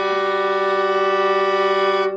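A fiddle sounds an octave slightly out of tune, the two strings beating against each other in a steady wobbling wave, one sustained bowed note held loud and close for about two seconds.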